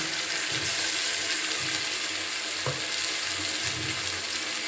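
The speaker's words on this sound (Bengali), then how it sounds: "কিছুক্ষণ মশলাটাকে কষিয়ে নিচ্ছি" Ginger, garlic, onion and tomato masala paste frying in a pan, a steady close hiss of sizzling oil with soft scraping stirs now and then.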